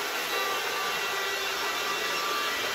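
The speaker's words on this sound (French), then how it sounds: "Bonjour, bonjour l'aspirateur. En plus, il nous répond." A household vacuum cleaner runs with a steady, loud, hissing roar that stays constant throughout without pauses or voices.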